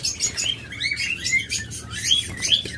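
Many small caged Java sparrows chirp and tweet continuously nearby, a busy overlapping chatter of high, quick calls.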